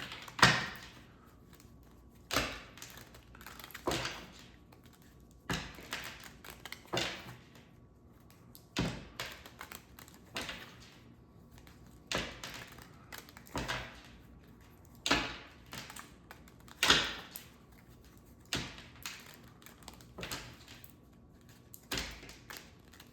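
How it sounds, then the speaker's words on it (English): Tarot cards are shuffled in repeated riffles and taps, each burst a short crisp flutter followed by a pause, recurring every couple of seconds, close and fairly quiet. "while I shuffle up these cards"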